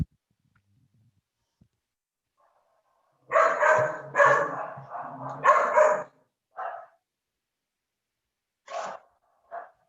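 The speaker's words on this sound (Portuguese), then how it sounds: "O cachorro participou aí também" A dog barks in a quiet room at home, several sharp barks in a quick cluster followed by a few isolated yips, fairly close and loud against near silence.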